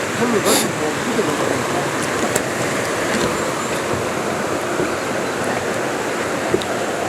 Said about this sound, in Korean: 흘러가 물이 많네 여기 물소리가 요란하다